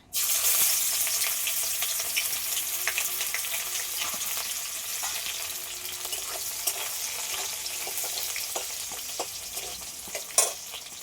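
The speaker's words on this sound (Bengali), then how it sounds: "কড়াতে পেঁয়াজ কুচি দিয়ে দেবো" Chopped onion hitting hot oil in a pan, a loud steady sizzle with occasional stirring scrapes, close and continuous without talk.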